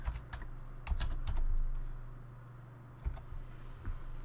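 Computer keyboard typing, a quick series of close, crisp key clicks in uneven bursts over low background hum.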